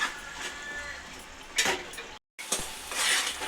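Onion paste frying in a pan for a fish curry made with pandukappa fish, a steady low sizzle with bursts of stirring scrapes, a short silent gap, then louder frying.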